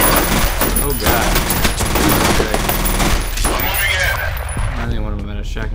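Rapid gunfire bursts crackle through a firefight in the first-person shooter F.E.A.R., dense and loud over continuous game noise, thinning out toward the end.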